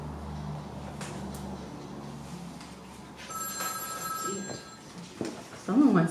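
A telephone bell rings faintly during a reading event, a thin repeated trill rising over soft room noise before a speaking voice and shuffling follow.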